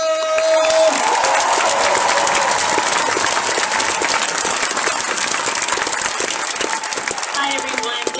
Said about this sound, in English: So I would like you guys to give a round of applause for Christina!